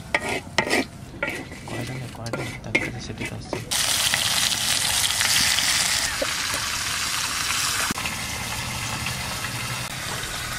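Dry red chillies, bay leaves and cumin spluttering in mustard oil in a clay kadai, with clinking and stirring at first, then a steady loud broadband sizzle that carries on to the end.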